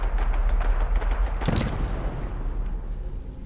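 Gunfire from a weapon in Fallout 4: a rumbling, booming shot environment with one sharp blast midway, fairly loud and dying down into a low murmur afterward.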